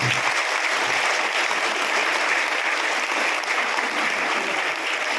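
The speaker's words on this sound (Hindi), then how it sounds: "अब एक बार अच्छा से ताली बजाएं।" An audience at a night vigil at Divine Mercy Ashram in Hazaribag claps steadily and loudly, a dense, even wash of applause lasting several seconds.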